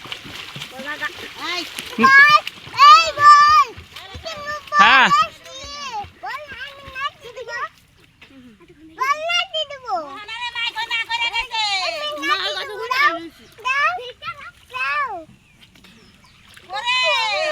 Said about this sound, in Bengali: ওরা বল নিয়ে জলে নামছে